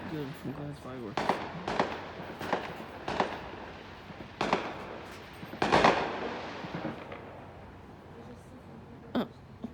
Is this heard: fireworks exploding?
yes